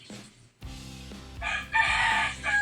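A rooster crows loudly nearby at night in the Philippines, a long rising cock-a-doodle-doo following some lower clucking and rustling.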